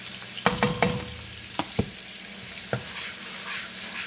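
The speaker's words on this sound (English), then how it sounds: "So we're gonna saute this for 5 minutes." Onions sautéing in a pan for a creamy chicken alfredo, with a steady close sizzle broken by several sharp scrapes and taps of a spoon stirring against the pan.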